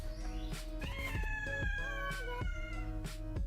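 A cat meows and caterwauls loudly again and again, agitated while a car's STI pink lowering springs and struts are being installed; the yowls are drawn out and tonal, close and continuous for the whole stretch with no talking.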